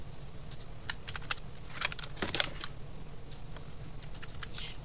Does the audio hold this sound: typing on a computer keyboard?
yes